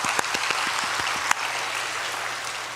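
Church congregation clapping together in a big applause, a dense steady wash of many hands with a few sharper claps standing out near the start, carrying on throughout.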